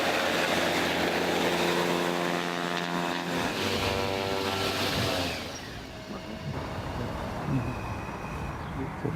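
A small electric airplane in flight gives a loud propeller whir with a rising and falling tone that fades to a lower, more distant hum partway through.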